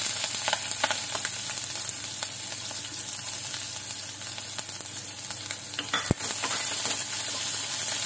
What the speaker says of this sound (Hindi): प्याज को बहुत ज्यादा नहीं भुनेंगे, हल्का ही भुनेंगे, हल्का गुलाबी हो जाए उतना ही भुनेंगे।